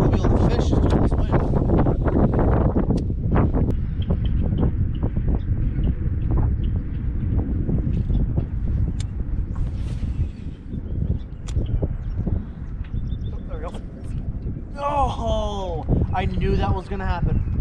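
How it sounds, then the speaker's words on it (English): Strong wind buffets a microphone outdoors during pike fishing in central Michigan, a loud, gusty roar throughout, with people talking and a few high bird-like chirps near the end. "that wind's starting to pick up"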